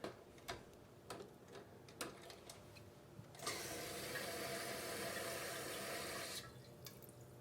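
Toilet tank fill valve float being turned clockwise to adjust the water level: a series of sharp ratcheting ticks, then a steady rush of water filling the tank for about three seconds before it stops.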